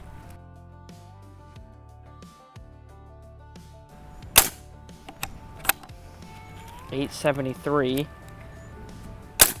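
Pellets fired from a Pinty Night Fall MK2 air rifle, heard as a few sharp, isolated cracks spread across the stretch, with someone speaking numbers between the shots.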